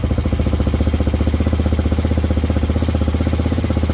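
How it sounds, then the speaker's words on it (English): A Hawk 250 motorcycle idles in neutral around 1900–2000 RPM, a close, steady, rapid thumping beat that keeps an even rhythm with no talk over it. "So you can see I'm idling right around 1900 RPMs, 2000."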